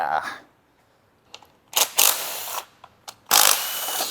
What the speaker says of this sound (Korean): 밸브 커버 볼트 하나하나 풀 때마다 막 뻑뻑하면서 튀는 소리가 납니다